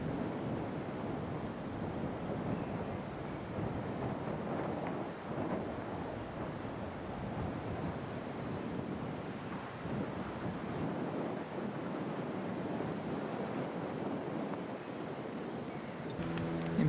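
Steady wind buffeting a microphone on a breezy hilltop above Burwash near Lympne and Hythe, Kent, a continuous loud rumbling roar with gusts throughout and no talking.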